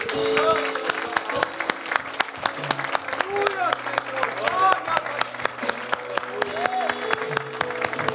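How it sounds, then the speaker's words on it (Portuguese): A church congregation applauds, sharp separate claps spread through a fairly large room, with voices, singing-like tones and shouts mixed in throughout the clapping. "Um aplauso para este Deus."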